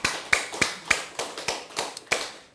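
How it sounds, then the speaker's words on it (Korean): A church congregation at a Sunday service gives a short burst of rhythmic clapping in praise, about eight distinct claps at a steady pace, close and alone without talk. "하나님께 승리의 박수 올려드립니다."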